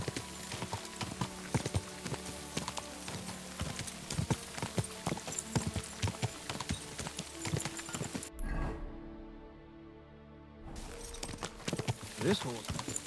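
A horse gallops in the video game Kingdom Come: Deliverance II, with rapid rhythmic hoofbeats and a whinny; the hooves stop briefly partway through, then resume.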